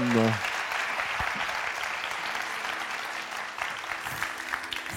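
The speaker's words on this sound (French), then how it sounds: "Je vais demander, mesdames, messieurs, d'applaudir Tom" A studio audience at a French televised children's singing show applauds, broad steady clapping at moderate distance after a voice trails off at the start, with a brief swell near the end.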